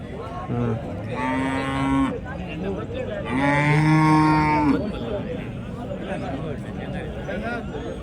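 Cattle moo loudly in two long, drawn-out calls over a steady murmur of voices and crowd noise at a cattle market, with bulls nearby.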